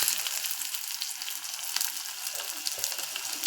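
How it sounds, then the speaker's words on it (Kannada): Mustard seeds, garlic and onion fry in hot oil for a tempering, giving a close, steady crackling sizzle with small pops and no talking. "ಇದಕ್ಕೆ ಒಂದು ಒಗ್ಗರಣೆ ಕೊಟ್ಬಿಡೋಣ."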